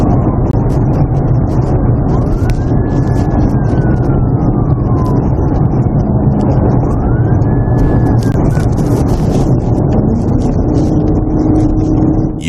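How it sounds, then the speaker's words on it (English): A police car siren wails loudly and continuously in rising and falling sweeps over road and engine noise, close by throughout. "Also be advised, I've got my siren back."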